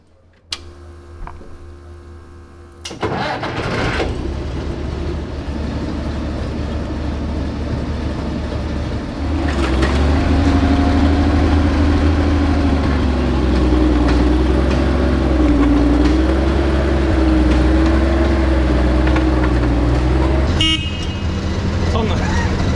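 A tank engine idling and then driving on a test run, a loud continuous low rumble that starts abruptly, swells heavier partway through and drops away near the end.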